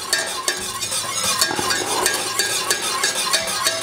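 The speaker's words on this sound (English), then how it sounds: "Now I can just start giving that a whisk." Frank's hot sauce whisked with melting butter in a pan, a quick metallic whisk rattling steadily against the pan over a soft sizzle, close and fairly loud.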